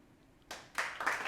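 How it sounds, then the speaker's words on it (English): Applause for a comedy-style home show intro, arriving in three rising bursts of clapping from a small group, fairly faint and close, with no talking over it. "The applause, thank you so much."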